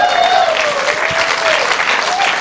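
A crowd at a motivational team celebration bursts into loud, dense applause for their leader, with a thin whistling or cheering tone riding above the clapping for the short burst.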